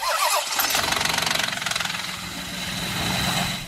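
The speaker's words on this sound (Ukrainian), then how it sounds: "Запускаємо двигун, є тріск, секунди 2-3, потім проходить." A Lexus IS 300 engine cranks and catches on a cold start, then runs with a fast metallic rattling clatter for a few seconds before settling into a steady idle.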